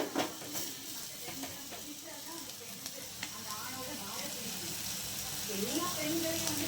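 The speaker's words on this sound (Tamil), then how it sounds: "இதை ஸ்லிம்மில் அப்படியே வதங்கிட்டே இருக்கும்" Masala for vada pav sautés in a pan on a low flame, a soft, steady sizzle and hiss running throughout, with a voice talking over it.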